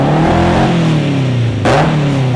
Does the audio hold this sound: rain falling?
no